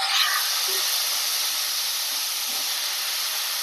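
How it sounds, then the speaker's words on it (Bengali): Cauliflower frying in hot oil gives a loud, steady sizzle and hiss close by, continuous throughout without any talk. "ভেজে নেব ফুলকপি।"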